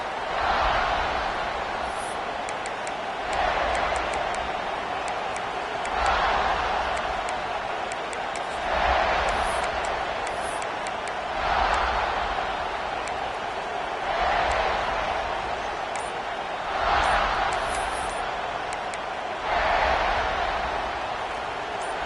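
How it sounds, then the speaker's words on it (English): Stadium crowd noise from the NCAA Football 25 video game swells and fades in a steady roar, rising into cheering surges roughly every three seconds, continuous and moderately loud with no clear talk. "This crowd ready to make its presence known."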